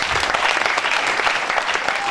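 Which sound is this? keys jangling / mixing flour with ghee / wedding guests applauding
wedding guests applauding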